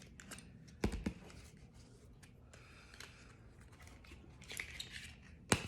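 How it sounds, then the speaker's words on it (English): Butter knife prying into lip gloss packaging, a few sharp clicks and plasticky snaps scattered across quiet scraping and rustling, close and crisp. "I use a little butter knife to get into these things"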